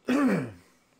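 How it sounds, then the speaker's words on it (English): A single throat clearing close to the mic, one short raspy burst that tails off into quiet within about half a second. "Clear my throat."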